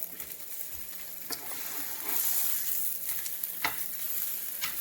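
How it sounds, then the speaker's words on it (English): Birria tacos pan frying in a skillet, a steady close sizzle and crackle with occasional sharper pops and spatter bursts, louder mid-clip as the tortilla is flipped. "And then we want to just pan fry."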